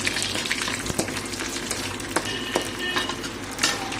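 Food fries in hot ghee in a pan while cooking fuchka in a home kitchen, a continuous close sizzle with a few scattered clinks of a utensil.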